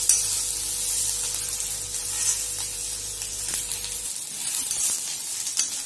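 Onions frying in a pan until fully reddened for farsan amti, a steady hissing sizzle with light stirring that drops to a quieter hiss partway through, no voices.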